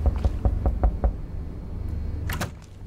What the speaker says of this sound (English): Did I hear knocking?